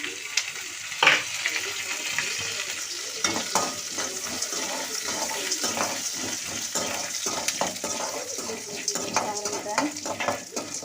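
Coriander seeds, cumin, pepper and garlic sizzle in a pan for radish chutney, with steady frying crackle and repeated scraping stirs of a spoon against the pan throughout.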